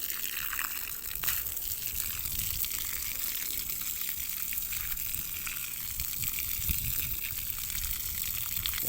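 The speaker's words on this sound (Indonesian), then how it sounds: "Ini airnya deras sekali ya." Water gushes hard from a garden hose onto an avocado tree during the dry season, a steady, even hiss and splash throughout, close by, with no voices.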